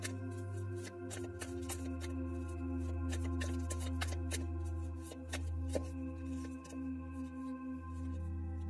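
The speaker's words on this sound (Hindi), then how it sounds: "मैं एक बार फिर से शफल करना चाहूंगी।" Tarot cards shuffled by hand in a quiet room, soft rapid riffling and flicking, faint and close, with a low steady hum underneath and no talking.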